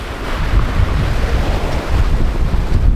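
Choppy Atlantic seas slosh and surge around a sailboat during a stormy ocean crossing, with continuous gusting wind buffeting the microphone, a loud, unbroken roar with no talk.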